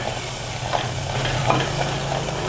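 Banana and dates being stirred in a frying pan with a little water, a steady low sizzle under soft spoon scrapes and stirring strokes, close and continuous with no talk.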